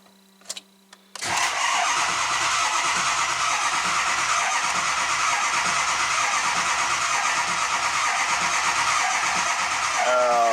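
Engine cranking on weak batteries after a rebuild of the passenger-bank fuel injectors: a few faint clicks, then a loud, steady, droning crank that runs on unbroken for about nine seconds without catching.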